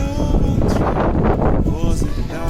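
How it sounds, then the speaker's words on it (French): Strong wind buffets the microphone with a heavy, continuous low rumble and roar, while a voice is faintly audible beneath it. "il y a tellement de vent que vous n'allez pas m'entendre"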